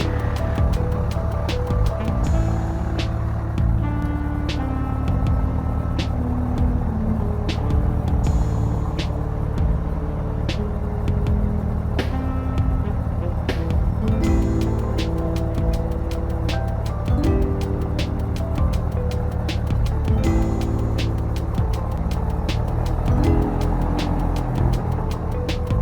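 A Cessna light aircraft's engine taxiing to runway 05 at Lincolnton, North Carolina, a steady loud droning rumble with a rapid propeller pulse, heard continuously from inside or close by.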